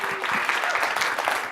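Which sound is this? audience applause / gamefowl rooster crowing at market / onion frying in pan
audience applause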